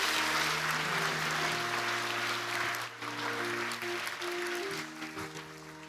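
A congregation at a Korean Sunday church service gives sustained, dense applause that fills the space and tapers off slightly toward the end, with faint sustained musical tones underneath.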